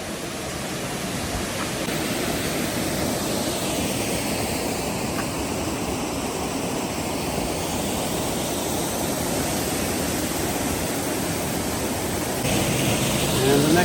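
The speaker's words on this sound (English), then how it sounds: "we've arrived at the Allerheilige Waterfalls." The Allerheiligen waterfalls in the Black Forest give a steady, broad rush of falling water that fills the whole stretch evenly, with no break in the roar and a slight swell near the end.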